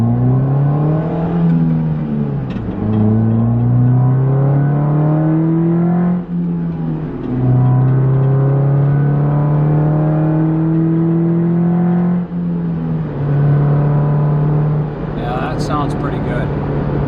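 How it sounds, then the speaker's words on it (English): A 2009 Nissan Cube with a J2 stainless steel cat-back exhaust pulls away from a stop in first gear. Its loud, droning engine note climbs steadily, dips briefly at each of several gear changes, then rises again, heard close from inside the car. "So we're coming up to a stop sign, so I'll do another acceleration here."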